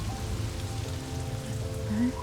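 Solid, steady rain falls in a continuous even wash, fairly loud, with a faint tonal drone and a brief rising tone near the end.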